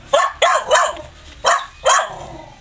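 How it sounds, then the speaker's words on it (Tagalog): Five loud, sharp dog barks ring out close by, three in quick succession and then two more after a short pause. "Aso, daming aso dito."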